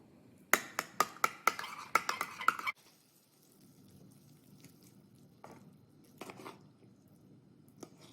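Horseradish and chipotle chili pepper seasoning being mixed in a bowl: a quick run of about eight sharp, wet tapping strikes, then faint scattered clicks and light stirring noises, with no talking.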